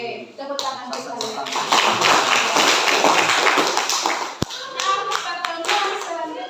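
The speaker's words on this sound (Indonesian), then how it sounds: "Tepuk tangan sekali." A school class answers a teacher's cue with handclaps in a classroom, sharp claps and taps standing out amid children's chatter and a spoken voice.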